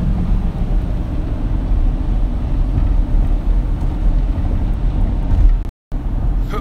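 Dodge Durango SRT with a Hemi engine gives a loud, steady low exhaust drone heard from inside while driving, with a continuous deep rumble and road noise and a brief dropout near the end.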